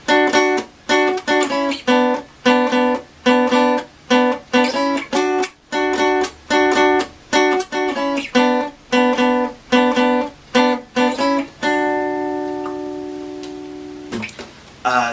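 Electric guitar plays a short melodic riff, a clean run of plucked single notes in a bouncing rhythm, loud and alone, ending on a long ringing held note.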